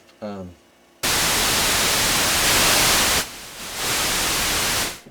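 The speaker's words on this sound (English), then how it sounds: "I'm going to put this up at white noise and the sound is at max" Loud, steady broadband hiss from an ARP 2600 synthesizer's white noise generator, filter fully open, switches on abruptly after a brief voice, dips briefly, then returns before cutting off; harsh and close.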